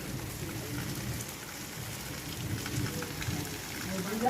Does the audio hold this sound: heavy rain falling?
yes